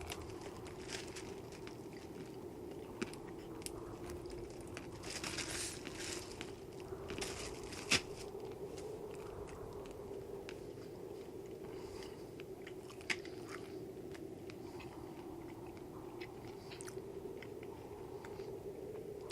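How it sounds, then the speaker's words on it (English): Someone chews a handful of crunchy trail mix close to the mic, making quiet, steady crunching and biting sounds over a soft background hum, with no talking. "I'm gonna treat myself to a nice handful of trail mix"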